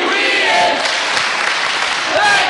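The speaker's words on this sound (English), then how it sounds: "Listen to the crowd." A wrestling arena crowd roars with sustained cheering and applause, a loud continuous wash of voices with occasional whistles, swelling again near the end.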